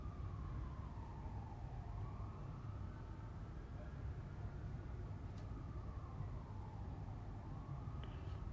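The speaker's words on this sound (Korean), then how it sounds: "경찰차도 많이 지나가는데 앰뷸런스가 진짜 많이 지나가요." Police car and ambulance sirens pass along a city street in the UK, a faint, distant wail rising and falling beneath steady background traffic rumble.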